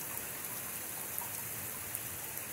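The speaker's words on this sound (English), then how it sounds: "They forecasted it last night, and it did rain just a little bit" Light rain falls outdoors on a Hill Country lawn, a soft, steady hiss with scattered faint drop taps, quiet and even throughout.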